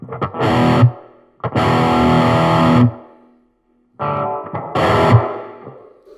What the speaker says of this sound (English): I don't like the sound of the reverb on this at all